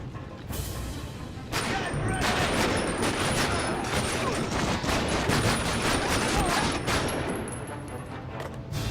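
Rapid, continuous gunfire from enemy soldiers in the World War II shooter game Medal of Honor: Rising Sun, dense overlapping shots and bursts that stay loud for the whole stretch.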